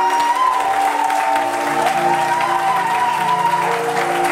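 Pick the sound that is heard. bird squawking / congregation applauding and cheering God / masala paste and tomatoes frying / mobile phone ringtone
congregation applauding and cheering God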